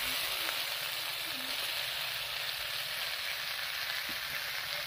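Fried eggplant goes into a pan of cauliflower stems that are already sizzling, and a steady, even hiss of frying continues without any talk.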